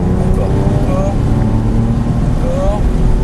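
A Porsche 997 GT3 accelerates at full throttle on the Circuit des Écuyers. Its engine makes a loud, close, continuous drone with rising tones, and a voice talks over it.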